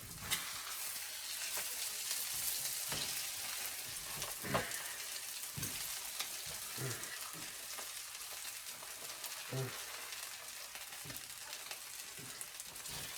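An egg-in-a-hole frying in a pan after the final flip: a continuous soft crackling sizzle with scattered pops and a few faint scrapes, steady and close, no talk.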